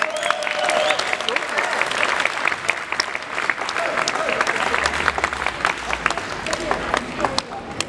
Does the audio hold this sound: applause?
yes